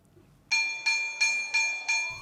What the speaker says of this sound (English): As the school bell rings for the lunch break